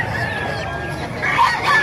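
Poultry calls over a busy outdoor chicken market background, with clucking and a crowing rooster mixed among other birds and faint voices.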